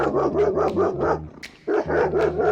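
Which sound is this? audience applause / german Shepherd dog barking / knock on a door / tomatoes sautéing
german Shepherd dog barking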